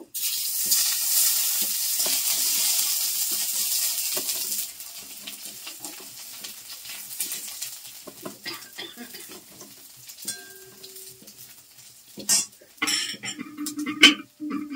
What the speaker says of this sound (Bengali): ফোড়ন দিলাম। এটাকে ভালো করে ভেজে নেবো।